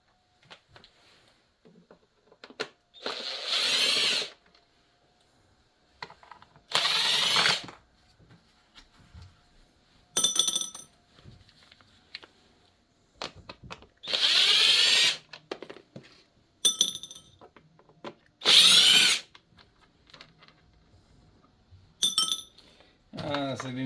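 A power drill runs in repeated short whirring bursts, about eight of them separated by pauses, as it backs the casing screws out of a Sportsman inverter generator, with light clinks of metal between bursts.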